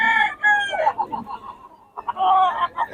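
Several roosters crow loudly and close by, one call after another with a short lull between.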